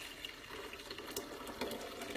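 Coffee pours into a Blendtec high-speed blender, a soft steady liquid splash and trickle, faint and close, with small gurgling bursts and no voices.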